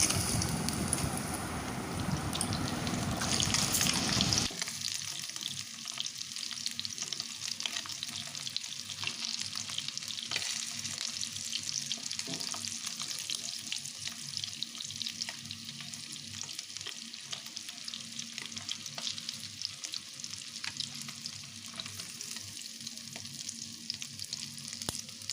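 Egg cubes for chili egg frying in hot oil in a pan, a soft continuous crackling sizzle like light rain, louder and denser for the first few seconds, then steady and quieter, with no talking.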